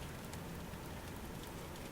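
Heavy rain pours down in a dense, unbroken roar of drops hitting surfaces, close and steady throughout, with no voices.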